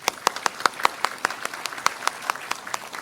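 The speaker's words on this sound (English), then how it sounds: "let us give him a very big round of applause" Audience applause after a public lecture by Indonesia's Deputy Foreign Minister, a fairly sparse group clapping in distinct, evenly spaced claps at moderate distance.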